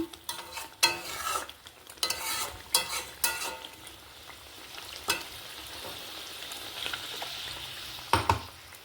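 Water splashed into an egg masala frying in a pan, with sizzling and scraping stirs that come in bursts, loudest early and near the end, then settle into a softer crackle.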